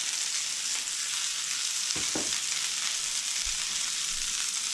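Steady, dense sizzling of eggs frying in bacon grease in a hot cast iron pan, crackling continuously with a couple of faint clinks.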